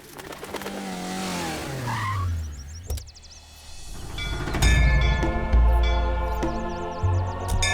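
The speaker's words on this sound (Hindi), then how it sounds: "जरा गाड़ी रोकिए।" A car brakes to a stop with a rising tyre squeal and engine whine that drops away, followed by a heavy thud and a loud, boomy rumble of low sound.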